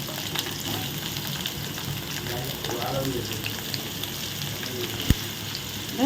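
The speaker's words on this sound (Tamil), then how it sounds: "எல்லாத்தையும் போட்டு நல்லா வதக்குங்க" Onion and green chillies sauté in a hot pan for a hotel-style chapati egg roll, giving a steady close sizzle with soft stirring scrapes and a brief sharp knock near the end.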